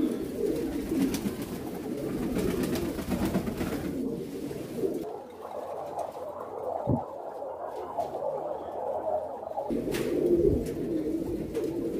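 Pigeons cooing inside a loft, low throaty coos rolling continuously at moderate distance, with rustling and a brief quieter stretch in the middle.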